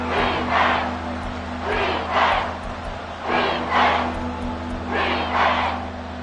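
A stadium crowd in a football video game roars in repeated swelling waves, loud and near, rising and falling every second or two over a steady droning crowd bed.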